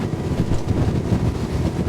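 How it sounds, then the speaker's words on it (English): Wind buffets the microphone aboard a Virtue V10 motor boat out at sea, giving a continuous low rumbling roar with gusty swells and no voices. "there's still a fair bit of wind hitting me"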